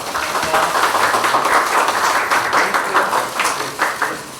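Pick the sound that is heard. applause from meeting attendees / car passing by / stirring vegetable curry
applause from meeting attendees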